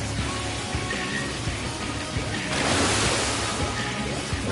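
Water gushing from pipes in the video game Final Fantasy XIV, a steady broadband rushing hiss like surf that swells louder midway through and continues to the end.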